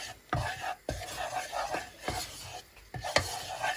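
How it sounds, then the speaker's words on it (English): Butter and plain flour stirred together in a saucepan for a cheese sauce, a spoon scraping and knocking the pan in regular strokes over a soft sizzle, close and fairly quiet with no talking. "Stir them together until well mixed and keep stirring."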